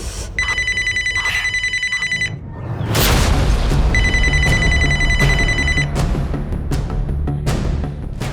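A telephone bell rings loudly in two long bursts separated by a heavy boom and rumbling noise, close and with no talk.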